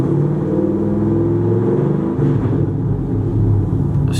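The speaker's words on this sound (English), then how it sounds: "So I'm gonna rev it up a little bit." A pickup truck with an aftermarket exhaust idles with a deep, loud rumble, then revs up briefly midway and settles back to a throaty idle, close and alone.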